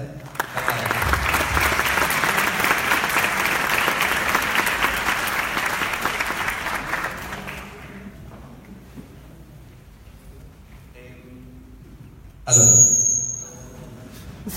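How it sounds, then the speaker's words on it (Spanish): Applause from a lecture audience welcoming Christopher Timmermann for a talk on the neural and psychological effects of LSD and DMT, loud and dense for about seven seconds, then dying away to a quiet room, followed by a brief sharp burst near the end. "Un aplauso para él."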